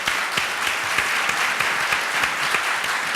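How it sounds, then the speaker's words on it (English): Audience applause for a panelist at a nonprofit leadership panel event, a steady dense wash of many hands clapping throughout, fairly loud and close, with no speech over it. "So with that, another round of applause for Evelyn."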